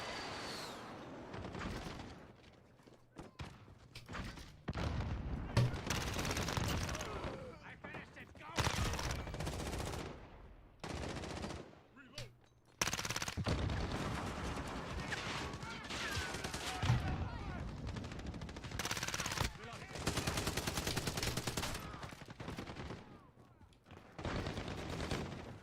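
Shotgun blasts and other gunfire in the video game Modern Warfare, with loud repeated shots and bursts across the whole stretch, mixed with game noise and a person talking over the action.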